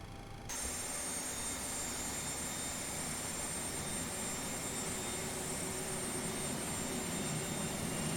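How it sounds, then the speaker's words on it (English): A simulated Boeing 737 right jet engine spools up in X-Plane 11 as it starts, with a sudden onset of broad turbine roar and high whine that then holds steady and loud. "Good engine start on the right engine."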